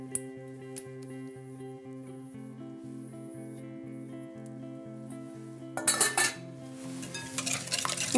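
Chocolate, butter, egg and sugar mixture stirred in a bowl, the spoon clinking and scraping against the sides in short bursts under steady background music, with louder clattering near the end.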